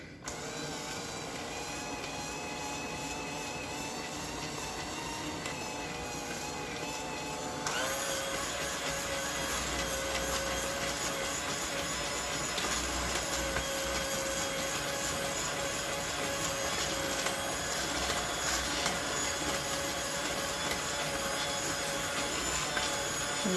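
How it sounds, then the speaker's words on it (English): Electric hand mixer fitted with a single beater whirring steadily through cookie icing in a container, a continuous close motor whine that steps up in speed partway through and keeps running to the end. "I only put one beater in the side of it because we're just going to mix that in the container"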